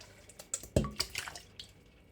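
Stewing beef, about a kilo, is dropped into a pot of roughly four litres of water, giving a soft splash followed by scattered drips and small wet plops, faint and close.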